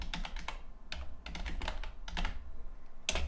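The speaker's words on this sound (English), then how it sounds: "I'll type in my main keyword like Dreamweaver" Quick bursts of keystrokes clatter on a computer keyboard, irregular clusters of crisp taps separated by brief pauses, close and fairly quiet with no talking.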